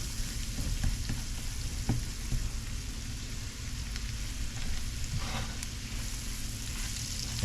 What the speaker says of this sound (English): just let this onion caramelize for a little bit, and let the sprigs of thyme infuse the butter and the oil